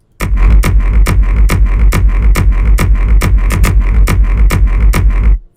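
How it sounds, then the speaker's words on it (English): Layered kick drum programmed in an Ableton session, thumping in a fast, steady four-on-the-floor pulse with deep low punch and a bright click on each hit, loud and alone for about five seconds. "so altogether that kick sounds like this"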